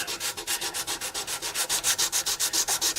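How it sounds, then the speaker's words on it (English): A guitar fingerboard is sanded with 220-grit sandpaper during a refret, a steady rhythmic back-and-forth rasp of about twenty even strokes, close and fairly loud with no voices. "use some 220 here and try to clean up this fingerboard in this area"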